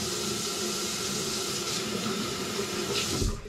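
Water runs steadily from a bathroom tap while a face product is rinsed off. The stream is close and constant with a brief splash near the end, and no one speaks.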